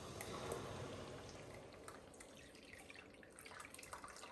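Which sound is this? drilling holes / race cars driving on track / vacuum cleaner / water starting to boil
water starting to boil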